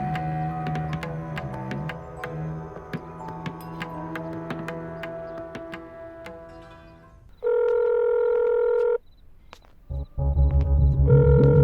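Telephone ringing on a call, steady electronic ring tones cutting in after a stretch of background music, with a pause between rings.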